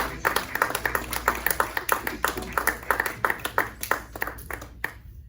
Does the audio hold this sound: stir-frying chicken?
no